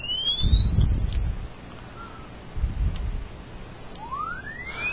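A sine-wave generator hooked to an automotive oscilloscope sweeps steadily upward in pitch, a single pure tone gliding for about three seconds before a second sweep begins, with low rumbling handling noise beneath.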